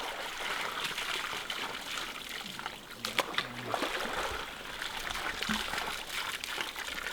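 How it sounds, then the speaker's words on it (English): Hands swish and splash debris in muddy water to rinse the mud out, a continuous close trickling and sloshing with a few sharper splashes and faint voices underneath. "I'm just kind of washing some of the mud out."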